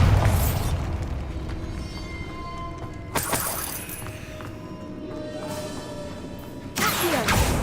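Bombarda blasting spell explosions in Hogwarts Legacy, a sharp shattering burst opening the sequence, then a second loud blast midway and a third near the end, each ringing out over a low rumbling game ambience.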